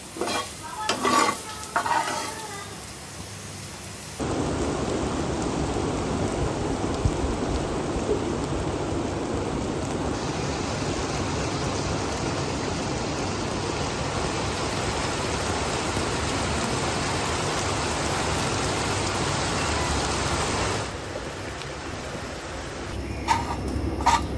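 Vegetable bhaji fries and is stirred in a pan, giving a loud, continuous sizzle with scraping stirs that holds steady for a long stretch, with no talking.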